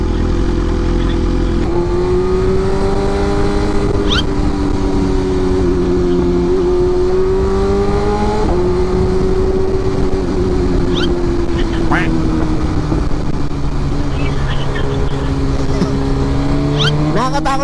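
A motorcycle engine idles loudly and close by, its throaty drone shifting in pitch now and then, with people talking over it.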